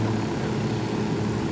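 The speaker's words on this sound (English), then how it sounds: "Oh, I gotta use the chopper to get down." A helicopter in Ghost Recon Wildlands drones with a steady low rotor and engine rumble, continuous and fairly close, with no voices over it.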